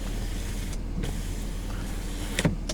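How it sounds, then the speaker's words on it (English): The power rear window of a 2019 Ford F350 Lariat diesel pickup runs with a soft electric motor hum inside the cab, ending in a couple of brief clunks as it stops. "Power rear window"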